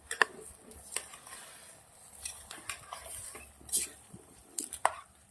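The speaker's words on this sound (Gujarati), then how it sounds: "હવે આપણે મસ્ત મિક્સ કરી લેશું" A spoon stirs rice with red chili powder, salt and turmeric in a pot for an eggplant pulao, giving a run of scattered metallic scrapes and clinks with quiet gaps between them.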